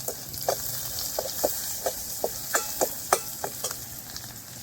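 Mustard seeds and curry leaves crackle and sizzle in hot oil, a quiet bed of frying hiss broken by many sharp, irregular pops.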